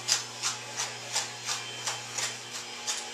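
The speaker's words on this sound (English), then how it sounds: "They go into our mixer and those get creamed up." An electric stand mixer creams sugar and butter, its steady low motor hum under a regular, rhythmic scraping swish about three times a second as the beater turns in the bowl.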